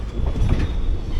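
The 16343 Amritha Express rolls into Madurai Junction station, a steady low rumble of wagons on the rails with soft clicking over the track, close and continuous for the whole moment.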